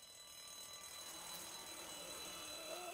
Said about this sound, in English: otworzyliśmy ich oczami i alarm się włączył